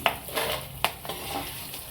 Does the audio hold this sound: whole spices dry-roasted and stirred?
yes